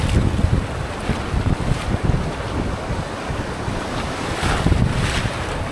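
Strong gusts of wind buffet the microphone while waves crash and surge nearby on a beach in Puerto Princesa, Palawan, rough and loud with no voices.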